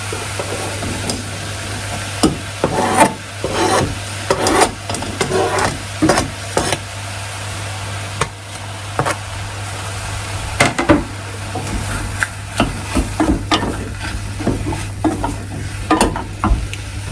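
Parsley and garlic stirred into mushrooms cooking down in a pan, with steady scraping strokes and a constant low sizzle underneath, loud and close with no talking.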